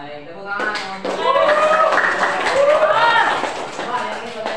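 Applause in a classroom, a steady burst of clapping from a group of students mixed with raised voices, continuing loudly for several seconds.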